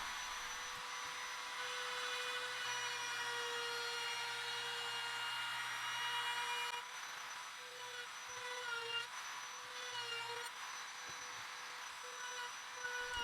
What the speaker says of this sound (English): I put a small round over on both sides of the board.